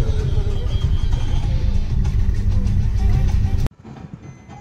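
Car traffic rumbles near the hillside parking area at Seminary Hills, Nagpur, during a feast day. A steady low drone of passing engines cuts off abruptly near the end, leaving faint background noise.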